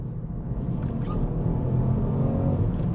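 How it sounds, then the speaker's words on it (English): A Ford Fiesta ST Line X engine growls low and steady as it drops down through the gears, a close, moderately loud rumble with brief higher whooshes on top and no one talking. "it makes a good noise as well. It growls at you, and I rather like that."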